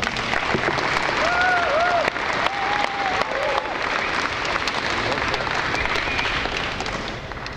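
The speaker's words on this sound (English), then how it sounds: "So let's give Trevon a round of applause" Dense, steady applause and cheering from an audience welcoming a first-year player at a university men's basketball media day, loud and continuous with brief whoops rising above the clapping.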